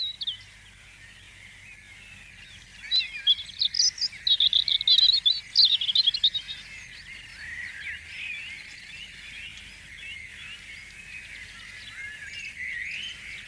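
Several birds, robins among them, sing in a dawn chorus of overlapping territorial song duels, with a burst of bright, rapid twittering phrases in the middle over a steady background of high chirping.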